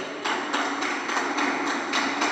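People clap their hands together in rhythm during a Tamil Bible story song about Jesus walking on the sea, the claps coming as a steady series of loud, sharp strikes at about two per second, with no voices.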